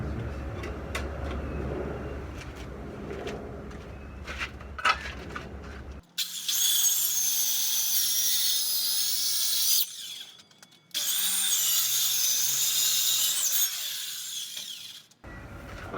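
A reciprocating saw cuts an opening in an outside wall for an air conditioner, running loud and steady in two long bursts separated by a brief pause, after a stretch of quieter handling and knocking noises.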